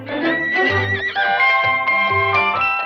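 A Disneyland horse gives a loud, close whinny with a wavering, drawn-out neigh lasting a few seconds.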